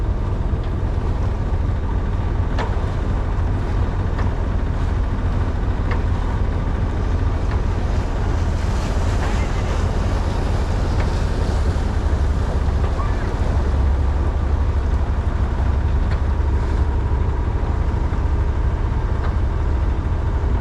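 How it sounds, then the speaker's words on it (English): A boat runs at a few knots through choppy water in a busy harbour mouth. Water splashes and churns steadily around the hull under a constant roar of wind on the microphone, with no pauses. "the water just got a bit choppy as usual"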